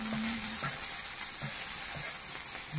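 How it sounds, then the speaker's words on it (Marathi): Onion and brinjal fry in oil for bharit rodga, giving a steady close sizzle with a few soft stirring knocks. "कांदा आणि वांग थोडं तेलात घेते परतून."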